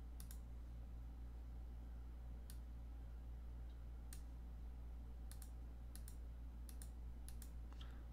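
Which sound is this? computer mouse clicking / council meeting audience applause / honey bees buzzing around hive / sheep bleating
computer mouse clicking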